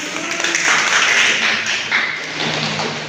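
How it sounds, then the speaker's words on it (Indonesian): A roomful of people in a classroom claps and taps together in a dense, steady burst of applause that lasts the whole time, with voices mixed in. "ayo kasih tepuk tangan"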